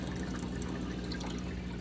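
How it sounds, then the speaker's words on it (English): Water being poured off a container of goldfish eggs during hand-spawning, a steady low liquid wash running continuously and fairly quietly with no voices. "Then he is going to pour that water off."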